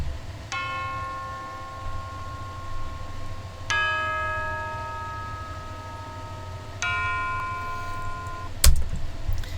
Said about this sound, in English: And then here's Aaron with his chimes.